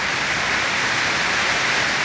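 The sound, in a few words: rain falling outside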